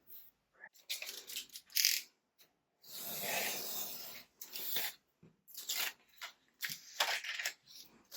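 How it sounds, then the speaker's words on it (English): Scissors cutting through paper for a glassine bag pocket, several bursts of crisp snipping and rustling separated by short pauses, close and moderately quiet. "Need to cut this up."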